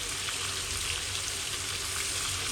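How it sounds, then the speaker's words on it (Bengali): Chicken coated in ginger garlic paste sizzling in a pan for a curry, a steady, dense crackling hiss that stays even and close throughout. "তো এখন এরকম এটাকে এইভাবে কষিয়ে নেব, 2-3 মিনিটের মতো।"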